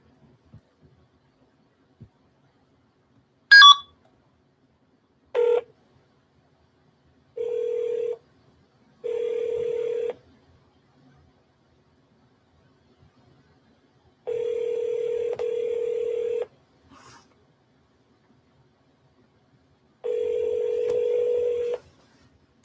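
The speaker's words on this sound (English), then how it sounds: "Keep on dialing." Telephone keypad tones being dialed, a few short beeps followed by several longer steady tones in a spaced, irregular sequence, clear and close with no talking.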